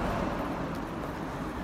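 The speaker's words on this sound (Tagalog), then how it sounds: "Maraming mga sasakyan sa taas." Many vehicles crossing a bridge overhead, heard from underneath as a dense, steady roar of traffic with no distinct passes, moderately loud and continuous.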